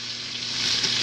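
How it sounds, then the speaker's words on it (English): Shredded cabbage fries in a well-filled skillet, a dense, steady sizzle that swells louder toward the end, with no voices. "when you're frying cabbage, here's something important to know"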